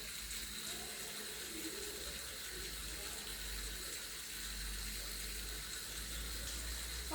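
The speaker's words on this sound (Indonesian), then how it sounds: "Dibilas menggunakan air mengalir." A tap runs while hands are rinsed under flowing water, a faint, even hiss of running water that continues unbroken throughout.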